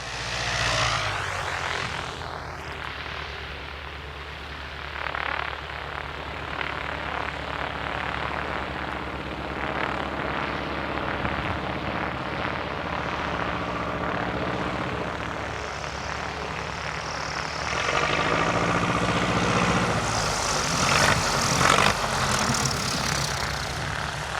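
A small propeller plane comes in to land in a crosswind in Alaska, its engine drone steady and fairly loud throughout, swelling slightly near the end as it nears touchdown.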